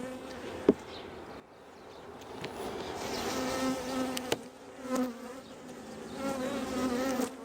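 Honey bees buzz steadily around an open hive during a queen rearing inspection, a continuous droning hum close by with shifting pitch as individual bees pass, a brief knock near the start, and no talking.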